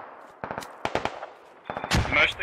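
Rapid bursts of gunfire in the video game Squad, fired through a window, come in quick clusters of sharp cracks with short pauses between, fairly faint and with a brief voice among the shots.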